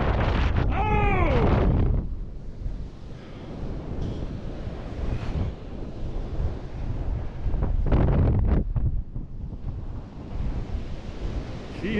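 Strong wind blasts the Michigan shore during a wind storm, roaring gusts buffeting close with crashing surf beneath, rising and easing in waves.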